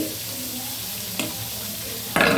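Food fries in oil in a pan, a close, steady sizzle with a brief sharp crackle midway and a louder burst of sizzling near the end as more goes in or is stirred.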